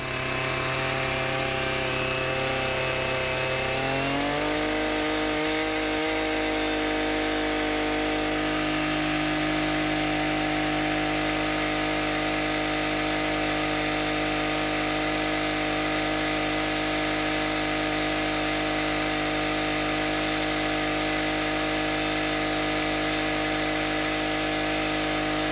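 Twin flywheels of a 7-ton kinetic log splitter, electric and two-stroke gas versions, spin at about 400 to 450 RPM. A steady mechanical hum rises briefly, then settles into a constant, fairly loud drone with no talking.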